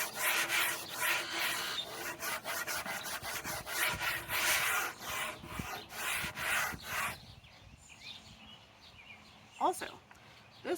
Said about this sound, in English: I am hand sanding just because I don't want to overdo it, and I just need to like knock down some of the rough texture